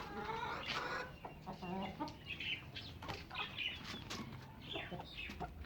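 Chickens and roosters in a hen coop, clucking repeatedly with bursts of wing flapping, close and busy throughout, with someone speaking intermittently over the birds.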